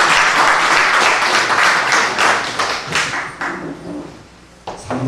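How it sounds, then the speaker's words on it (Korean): Loud applause from a seminar audience, many hands clapping at first, then thinning out and fading to a few scattered claps. "가끔씩 박수도 한번 쳐주시면 됩니다."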